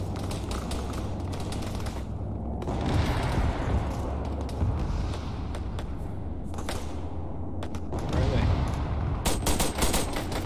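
Sustained gunfire in the Arma 3 video game, with dense rattling bursts and scattered shots continuing throughout, close and loud, with brief lulls between heavier volleys.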